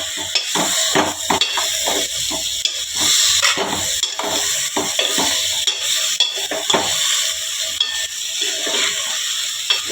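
Brinjal pieces frying in a pan for a village-style curry, stirred with repeated scraping and clinking of a spoon against the metal over a constant hiss of sizzling oil, close and loud.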